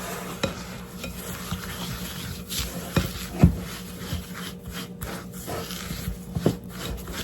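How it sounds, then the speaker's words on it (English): A spoon scrapes and stirs graham-style crumbs, sugar and melted butter in a bowl, producing irregular gritty scraping with a few sharper clicks against the sides; no talking. "we're going to give that a good mix"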